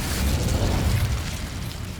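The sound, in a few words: Incendio fire spell cast, Hogwarts Legacy video game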